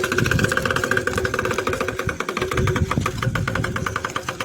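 A children's bike rigged to make a funny engine-like noise gives off a loud, close, rapid motor-style rattle that pulses continuously like an idling small engine.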